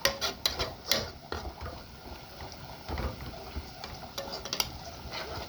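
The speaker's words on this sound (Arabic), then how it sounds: "لازم البصله معانا تتحمر عشان تتسبك معانا كويس" Onion fries in a pan for a stuffed-vegetable sauce, giving a soft, continuous sizzle punctuated by scraping stirs and light clinks, fairly quiet and close.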